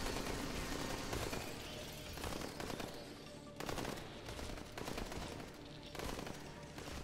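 Turrets in the space video game Space Raiders in Space fire rapid bursts of machine-gun-like shots, dense and continuous with brief pauses, mixed fairly quietly.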